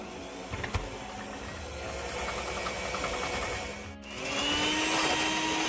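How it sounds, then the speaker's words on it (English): A blender whips heavy whipping cream with a steady, loud motor whir that holds throughout, dipping briefly near the end before resuming at a slightly higher pitch. "it's easiest if you use a blender to whip it up"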